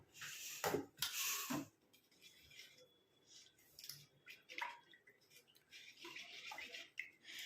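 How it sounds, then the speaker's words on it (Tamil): Ground herbal powder being stirred into water, with splashy, scraping bursts early on and lighter clinks and swirls of liquid continuing more softly after, close by with no talk. "எடுத்துகிட்டு இதை நல்லா வந்து தண்ணியில் கலந்துடலாம்."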